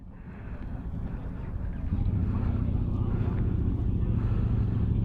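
A 2022 Yamaha R1 superbike fitted with an SC Project exhaust idles with a deep, steady rumble that swells louder partway through, with wind noise and the hum of a crowded bike night around it.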